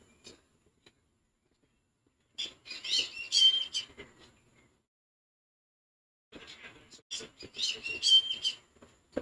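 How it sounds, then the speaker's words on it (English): Bird chirps and whistled calls heard faintly in the background of a live Yankees vs Reds baseball broadcast, in two bursts of high twittering separated by a quiet gap. "Bird chirping"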